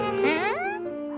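A cartoon dog named Blaze gives a short, high, yelping bark with a rising then falling whine, bright and close, heard alone in a single burst.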